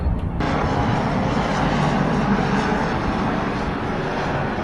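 A steady, loud engine roar from a helicopter overhead during flooding in Bundaberg, continuous and unbroken for several seconds, with no voices.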